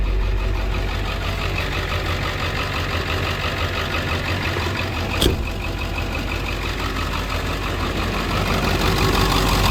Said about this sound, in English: Sit here and let it idle for a while.